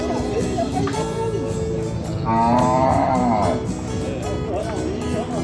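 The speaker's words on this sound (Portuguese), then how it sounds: "Ó o boi Ronaldinho!" Cattle low loudly at a cattle fair in Nossa Senhora da Glória, Sergipe, a drawn-out moo rising over a dense crowd of voices, shouting and steady background din.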